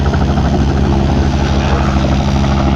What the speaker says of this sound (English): helicopter's making too much noise